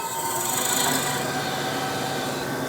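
Grinding machine wheel starting up and spinning, a steady bright whirring hum with a faint high whine, continuous and close.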